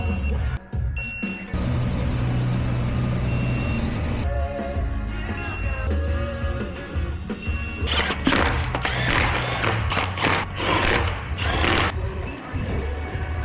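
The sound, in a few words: ratchet torquing bolts during wheel bearing replacement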